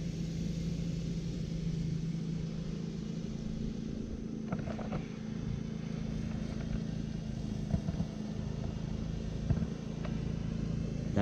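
Ride-on mower cutting long grass in a park, its engine droning steadily and fairly loud throughout with a low rumbling hum, a few brief clatters and bumps over the cut.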